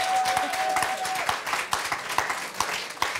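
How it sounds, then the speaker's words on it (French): Applause from an audience at a French author meeting, a steady wash of clapping over about three seconds with a few sharper individual claps standing out near the end. "Vous pouvez l'applaudir quand même."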